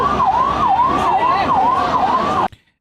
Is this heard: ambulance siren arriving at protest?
yes